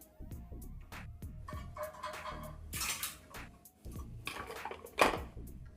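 A pan is set on the stove and about half a teaspoon of oil goes in while making chintakaya pachadi, with ringing metallic clanks and scrapes of cookware and utensils, close and intermittent, a couple of sharper knocks, and no speech.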